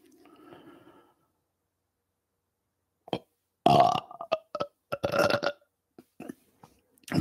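A person belches after eating KFC's Chizza, chicken topped with pizza: a loud close burp in several gurgling bursts following a quiet breathy pause.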